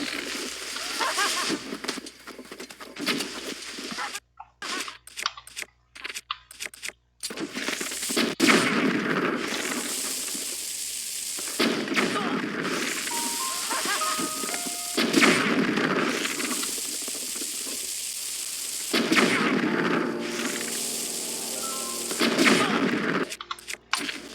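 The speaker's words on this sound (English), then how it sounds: "I'm using bombs." Bombs go off in a game, a string of loud booming blasts and rapid crackling bursts, with short quiet gaps and a voice talking between them.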